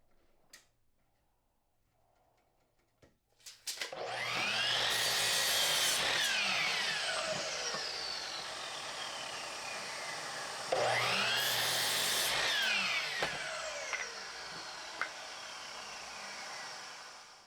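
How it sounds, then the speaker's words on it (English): A power saw cuts a 2x4 wood board into three 11-inch pieces in two long, loud, whining passes separated by a short pause, with a few small knocks before the first cut. "Now cut that into 3 11-inch parts"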